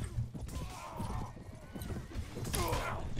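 A horse gallops across the battlefield in Mount & Blade: Warband, with rapid hoofbeats, whinnies and battle noise blending into a dense, loud mix while someone talks over it.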